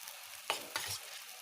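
Ginger, garlic and chili paste hits a hot frying pan with a sudden hiss and a soft second burst, then settles into a quiet, steady sizzle up close, with no talk.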